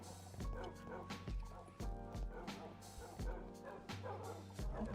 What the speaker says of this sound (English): these dogs are in the way, bro